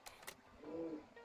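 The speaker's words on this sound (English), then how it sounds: "Noisy pigeon." A pigeon coos once, low and soft, with faint high chirps and light background noise around it; nearby and fairly quiet.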